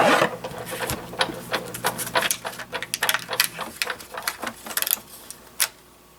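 A hand-cranked die-cutting machine rolls a die through with a rapid series of ratcheting mechanical clicks and clatters, uneven in rhythm, ending in a couple of separate knocks.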